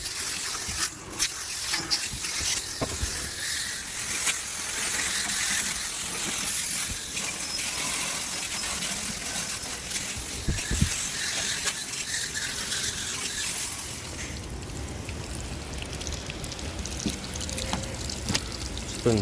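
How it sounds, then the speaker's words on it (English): A water hose rinses out the inside of an Intellipack packaging machine, giving a steady broadband rush of spraying and running water that continues for the whole stretch with scattered splashes and knocks. "I've just got the hose set up in there right now. Got it turned on."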